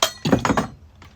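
A metal I/O shield drops out of an Elgato 4K60 Pro MK2 capture card box, clattering in a quick burst of three or four close, sharp metallic clinks that fade out.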